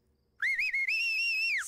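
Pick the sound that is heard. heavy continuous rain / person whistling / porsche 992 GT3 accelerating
person whistling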